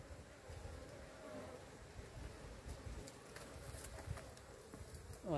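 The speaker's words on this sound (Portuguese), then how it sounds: "O enxame tá muito populoso." A populous bee swarm buzzes inside a rock crevice, a dense, steady drone of many insects holding at an even level throughout, with no voices.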